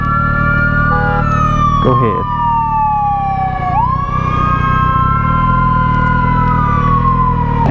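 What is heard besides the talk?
ambulance siren passing in traffic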